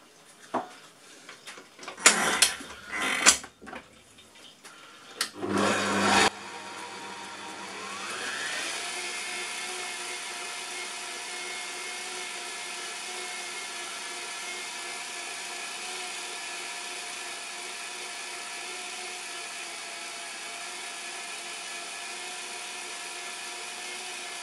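A food processor grinds cookie dough mixture: a few short pulses and clattering knocks at first, then a steady whining motor that runs alone for a long, even stretch, close and moderately loud.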